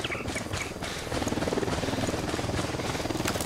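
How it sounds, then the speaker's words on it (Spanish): A helicopter in the video game Ghost Recon gives a steady, rhythmic rotor thump with a rumbling engine drone that grows fuller after the first second, loud and continuous. "Hay helicóptero."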